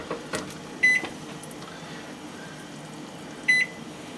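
A kitchen timer being set gives two short electronic beeps a few seconds apart, clear but modest in level over a faint room hum.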